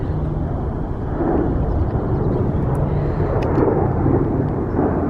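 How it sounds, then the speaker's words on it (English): A small propeller plane drones overhead, a loud steady engine rumble filling the air with no one speaking. "sorry about that aeroplane noise, that is really loud"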